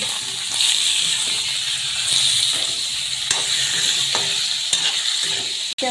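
Chicken pieces for Assamese chicken jalukiya fry in a hot pan with a steady, close hiss and sizzle as the meat is stirred, carrying on without a break.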